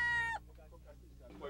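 A rooster crows or calls sharply at a village cockfight pen, loud and close, then cuts off into murmuring crowd noise and chatter as men gather to bet.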